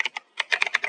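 Quick bursts of keystrokes on a computer keyboard, typing in game commands, about eight taps in an uneven rhythm with a brief pause early on, close and clear with no voices.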